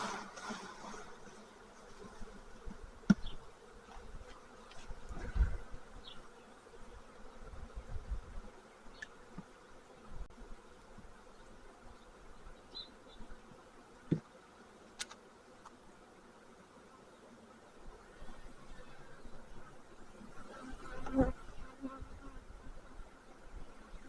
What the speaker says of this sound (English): They're making a little roaring, but they're not really upset